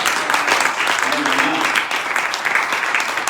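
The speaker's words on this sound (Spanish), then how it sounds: "Dale un aplauso." A church congregation claps together in loud, steady applause that fills the room for a few seconds, with a voice faintly mixed into the crowd noise.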